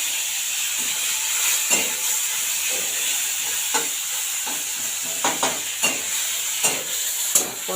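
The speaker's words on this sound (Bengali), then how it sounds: "প্রথমে আমি মাছের তেলটাকে ভেজে নিই" Fish fat sizzles in a pan with a steady hiss. Scattered scrapes and taps from stirring recur every half second or so, close by and without talk.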